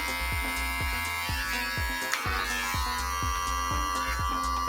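Close, constant buzzing of electric hair clippers working slowly through hair at the neckline during a graduated bob cut, with faint repeated ticking of the passes and no speech.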